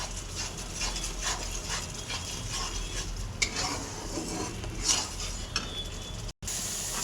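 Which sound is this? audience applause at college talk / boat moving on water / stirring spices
stirring spices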